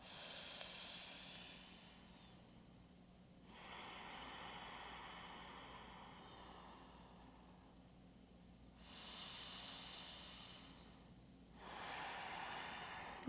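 Deep, slow breaths drawn in and pushed out during a yoga flow class, three long airy hisses spread across the stretch, with quieter pauses between them and no talking.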